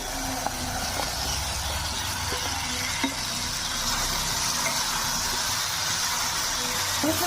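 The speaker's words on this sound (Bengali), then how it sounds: "মশলাটা ভালোভাবে কষিয়ে নিচ্ছি।" Spiced masala and fried potatoes sizzle steadily in hot oil in a pan, a constant hissing frying noise with faint scraping stirs underneath.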